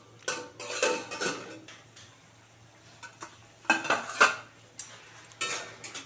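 Metal clatter as the lid comes off a cooking pot of tomato and jujube chutney, with several sharp clanks and scrapes separated by quiet gaps.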